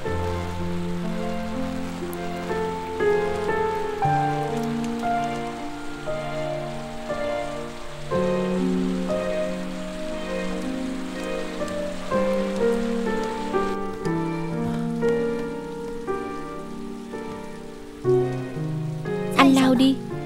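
Heavy rain pours outdoors as a continuous dense patter, with gentle music layered over it.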